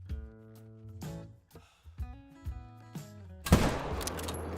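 Booming 7mm rifle shots from a European bison hunting video game ring out among tonal music or game sounds, with one loud, close blast near the end followed by a decaying roar.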